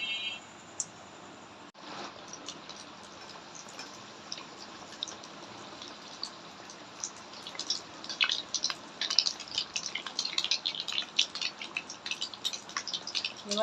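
Flatbread frying in oil in a pan for Mughlai paratha, a steady sizzle with dense crackling pops and spits that grow busier and louder toward the end, heard alone without talk.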